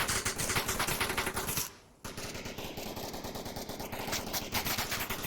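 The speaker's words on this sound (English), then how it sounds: "All those bullets landing" Rapid automatic gunfire and bullet impacts in the VR shooter Onward during a competitive Ember vs Insurgents match, loud dense bursts that break off briefly and then resume in sustained volleys.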